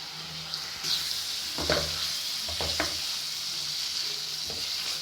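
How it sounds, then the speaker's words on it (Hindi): Small chicken pieces for shawarma frying in a hot pan, a steady close sizzle with occasional stirring scrapes and clinks, no talking. "अब हम इसको तेज पान से फ्राई करेंगे।"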